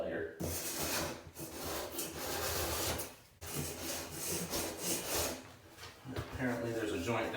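A knife scrapes dried drywall mud off a painted pantry wall in long, rasping strokes, continuous and close, broken by a brief pause, with faint handling noise between passes.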